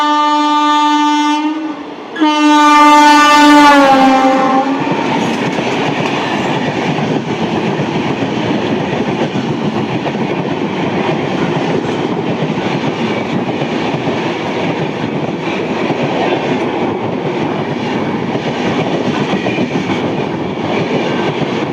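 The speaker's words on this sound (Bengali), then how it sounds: "এখন আসছে কলকাতা গোরক্ষপুর পূর্বাঞ্চল এক্সপ্রেস" The Kolkata–Gorakhpur Purvanchal Express, hauled by a WP7 locomotive, sounds a loud horn blast and then roars past close by with a long, steady rumble of wheels and wagons.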